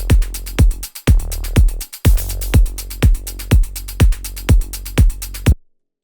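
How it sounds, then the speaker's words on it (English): A punchy Afro melodic house drum loop plays, with a steady four-on-the-floor kick under crisp high shakers and hi-hats. The groove is loud and close, has two brief dropouts, and cuts to silence at the end. "these are just high-end shakers and hi-hats to keep the groove going"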